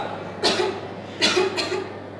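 A woman coughs in short bursts: one cough, then two more close together, near and fairly loud against a quiet room hum.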